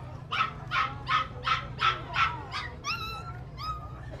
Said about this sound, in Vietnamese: Đấy, chó thường này các bạn ạ.